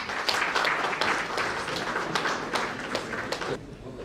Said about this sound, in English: Let's extend our heartfelt applause,